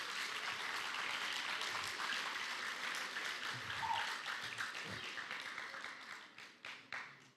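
A live audience claps together in a dense, even burst that thins into scattered separate claps near the end, faint and at a distance with no voices.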